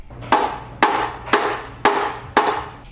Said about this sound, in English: Start by driving a wedge into the compression gap of the fork bottom bridge at the bottom of the triple tree